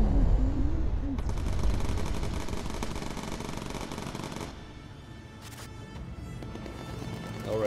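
Rapid machine gun fire from aircraft gunners in Bomber Crew, dense rattling bursts for several seconds that break off, then a short burst later, loud over a bomber's drone.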